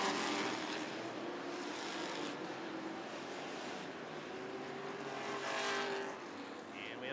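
Sportsman race cars roar around Rockford Speedway during a 50-lap event, a loud, steady wash of engine and track noise that holds through the whole stretch, swelling slightly near the end.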